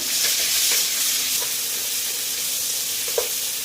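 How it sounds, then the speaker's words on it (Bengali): Onion, green chili, ginger and garlic hitting hot oil for chilli paneer, a loud steady sizzle and hiss close by, broken by a few faint stirring knocks. "এবার পেঁয়াজ, কাঁচা লঙ্কা, আদা, রসুন সমস্ত মিক্স করলাম"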